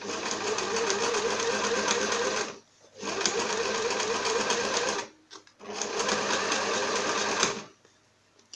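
A sewing machine stitches a fabric pouch in three loud, close, steady runs of rapid mechanical whirring, separated by short silent pauses.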